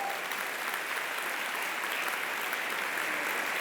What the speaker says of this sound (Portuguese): Vamos dar salva de palmas para Jesus por isso